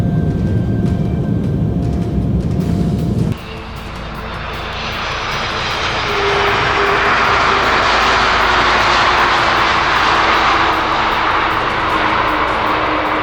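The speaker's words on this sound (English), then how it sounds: "The moment the Airbus A380 banked heavily over Farnborough gives viewers the feeling that the giant piece of" An Airbus A380 jet airliner banks heavily over Farnborough, its engines a loud, broad roar that swells and holds steady after a sudden shift in tone, with no voices.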